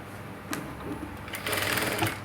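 A sewing machine stitches a blouse in a close, rapid mechanical whir that starts in short bursts and then runs continuously and louder.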